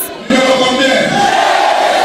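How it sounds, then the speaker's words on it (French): A jubilant crowd cheers at a political campaign rally in a Kolwezi stadium, a sudden loud, sustained roar of many voices that swells in after a brief quieter moment and holds steady. "sous les acclamations d'une foule en liesse"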